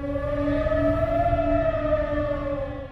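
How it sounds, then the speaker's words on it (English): A wailing air raid siren holds a steady rising-and-falling tone, loud and sustained, with a low rumble beneath. "air raid sirens in the cities"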